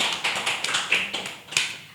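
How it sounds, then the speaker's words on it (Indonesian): A talk show studio audience claps in scattered, uneven claps that patter on at a moderate level, with no talk over them. "Boleh tepuk tangannya?"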